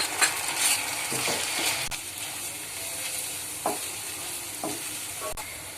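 Onion, cashew and whole-spice paste of cloves, cardamom, cinnamon and cumin frying in oil in a pan, a continuous close sizzle with occasional scraping stirs and soft clinks of a spoon, and no one talking.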